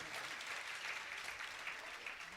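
Continuous audience applause at a poetry recitation, a dense, even wash of clapping held at a low, distant level throughout.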